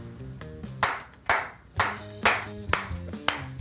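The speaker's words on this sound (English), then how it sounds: "clapping their hands like a maniac" Hands clap sharply and loudly, roughly every half second in an uneven beat, over a tonal musical backing, with no voices.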